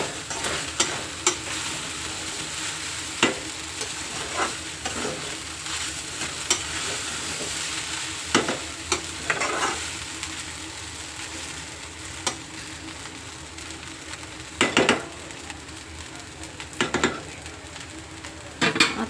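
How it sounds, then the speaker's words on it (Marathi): Sabudana khichdi is stir-fried over a high flame, giving a steady sizzle with repeated spoon scrapes and clanks against the pan at irregular intervals. "फास्ट गॅसवर परतवायचे म्हणजे त्यांचा कलर छान येतो"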